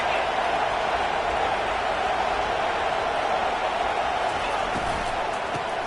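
A stadium crowd at a Texas football game keeps up a dense, steady roar for the whole stretch, loud and unbroken, with no single voice standing out.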